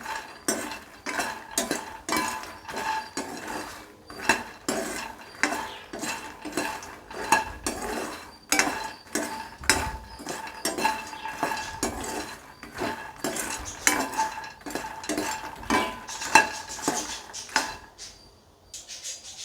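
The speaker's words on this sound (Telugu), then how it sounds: "ఈ విధంగా తిప్పుతూ ఫ్రై చేసుకుంటూ ఉంటే మాడిపోవండి." Lotus seeds (makhana) are stirred and fried in a pan, a steady run of rapid metallic scrapes and rattles from spoon against pan and tumbling seeds, close and fairly loud throughout with no voices.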